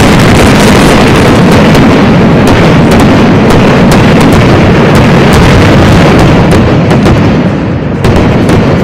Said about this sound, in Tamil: இரவை பகலாக்கிய பிரம்மாண்ட வான வேடிக்கை நிகழ்ச்சி